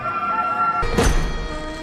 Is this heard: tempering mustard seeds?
no